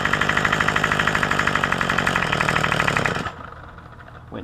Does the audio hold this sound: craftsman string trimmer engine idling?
yes